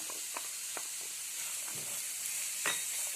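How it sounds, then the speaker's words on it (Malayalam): Chopped onions sautéing in hot oil in a pan, a steady close sizzle with a few soft scraping stirs. "ഇനി നമ്മൾ ഇതിലേക്ക് അരിഞ്ഞു വെച്ചിരിക്കുന്ന സവാള ചേർത്ത് കൊടുക്കുക."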